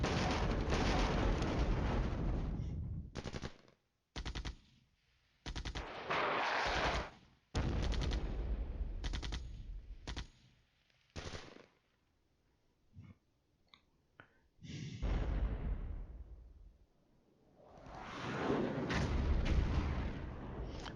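Artillery fire in the Flashpoint Campaigns Cold War wargame comes as loud, separate booming blasts with gaps of near silence between them, some bursts short and others rolling on for a couple of seconds.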